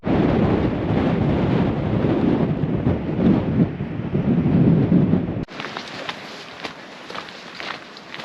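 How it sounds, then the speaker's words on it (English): Strong coastal wind on a foggy Oregon shore roars and buffets the microphone in loud, steady gusts, then drops to a thinner, hissing blow after an abrupt cut. "It's just so foggy and so windy,"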